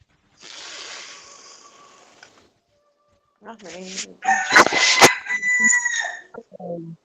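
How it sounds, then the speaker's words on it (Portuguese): A rooster crows loudly and close twice, a long raspy call and then a strained crow with clucks, with a hissing noise before it. "Tem um galo cantador, não sei qual é a cidade."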